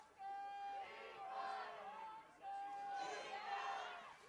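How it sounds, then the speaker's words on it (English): Crowd at a girls high school soccer final cheering and shouting in swelling waves, fairly loud and sustained, with excited voices rising together. "Piedmont crowd trying to cheer on their side to get something going offensively"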